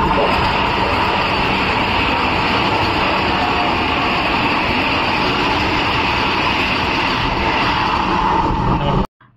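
A Vande Bharat express passes close by near Howrah, a loud, steady rushing roar sustained for several seconds before cutting off abruptly.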